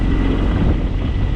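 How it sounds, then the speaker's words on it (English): Wind buffets the microphone outdoors beside a John Deere X748 tractor, a continuous low rumbling roar with no breaks. "sorry about the wind, it's windy here today"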